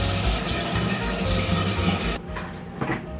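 Shower water runs in a steady, dense spray of noise that cuts off abruptly partway through, leaving a few quieter drips and small bumps.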